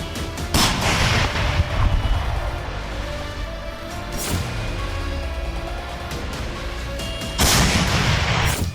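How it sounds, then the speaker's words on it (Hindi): A self-propelled 203 mm artillery piece fires in combat, three heavy, loud blasts spaced several seconds apart, each followed by a long rumbling roll of reverberation. "इस बार यूक्रेन ने सेल्फ प्रोपेल्ड 203 mm आर्टिलरी से रूस के ठिकानों पर बारूद की बारिश कर दी"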